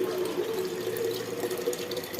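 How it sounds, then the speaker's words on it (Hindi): Tap water running steadily into a vessel at home, a continuous close splashing flow with no talk over it. "पानी भर लेती हूँ"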